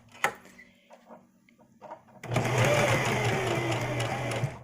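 A sewing machine on its serger setting stitches, starting after a few soft knocks and handling sounds, then running in a fast, steady, close mechanical whir.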